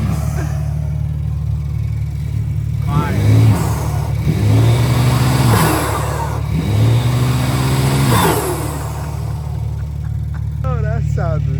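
A 1500 bhp BMW M3 Competition engine revs up and rumbles at close range over a steady low idle, with loud rising blips and rev surges, while people talk and react excitedly around it.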